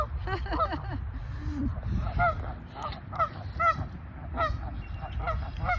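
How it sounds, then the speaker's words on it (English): A flock of geese honks repeatedly outdoors at moderate distance, overlapping calls rising and falling in bursts with steady low background rumble throughout. "Look at this lone goose all the way down there just looking like, what the heck are you doing?"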